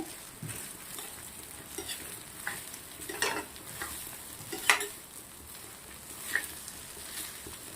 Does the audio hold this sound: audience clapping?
no